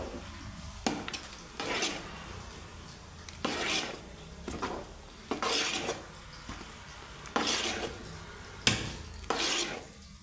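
Besan (gram flour) is stirred and mixed into a large batch of batter made with about two kilograms of flour. Close, steady scraping and rubbing strokes repeat in an uneven rhythm, with no talking.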